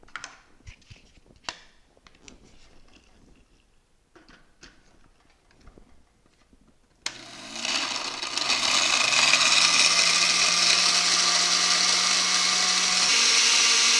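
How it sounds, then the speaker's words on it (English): A blender whirs to life after several seconds of quiet clinks and taps, churning ice cream and crushed ice for a frozen drink in a loud, steady grinding roar that runs to the end. "Now let's take this to the blender."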